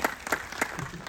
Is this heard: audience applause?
yes